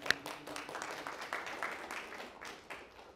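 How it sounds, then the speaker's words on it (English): An audience at a civic activism talk claps together, a soft, steady patter of many hands that stays fairly quiet and even throughout. "Y'all can clap for that."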